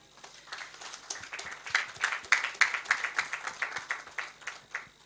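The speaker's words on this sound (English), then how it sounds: "Let us grant again a standing ovation to Star Times and Uganda Breweries. Again, just a clap." An audience at a football league season awards ceremony claps together, a dense ripple of applause rising to a peak and then thinning, moderately loud and without talk.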